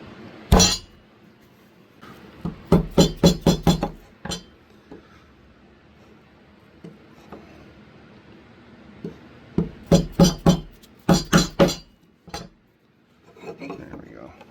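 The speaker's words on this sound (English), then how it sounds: "I'm going to go ahead and take a chisel" A chisel works into scrap wood, giving bursts of sharp rapid knocks and clinks in quick clusters separated by quiet pauses, close and fairly loud.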